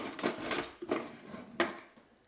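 Finely chopped ginger tossed onto garlic in a cooking pan, giving two or three soft clattering hits with light scraping, fairly quiet and with no talking.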